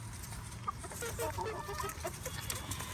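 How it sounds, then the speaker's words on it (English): Several chickens cluck and peck close by as they gather food dropped on the ground, a steady run of short clucks over a low rumbling background. "I'm dropping a lot and the chickens are getting them."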